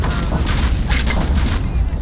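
Deep booming fire from an anti-tank gun in the Men of War strategy game, a dense, continuous rumble with overlapping blasts throughout.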